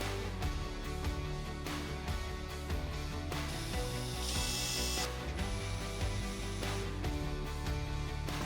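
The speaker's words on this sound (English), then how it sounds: "I attach the legs using screws." Screws being driven to fasten slim, minimalist legs onto a herringbone coffee table made from leftover wood, heard as a steady run of ratcheting, whirring mechanical clicks at moderate distance, with no speech.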